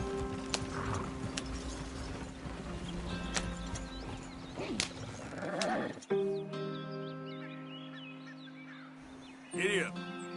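Horse hooves clip-clop in Red Dead Redemption, a steady rhythmic trot under ambient game sound, with a brief whinny or animal cry near the end and a voice speaking now and then.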